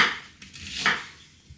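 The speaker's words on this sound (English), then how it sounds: "So once you've chopped your onion," A red onion being chopped with a knife on a chopping board, giving a few sharp, close knocks and cuts spaced irregularly, with no voice present.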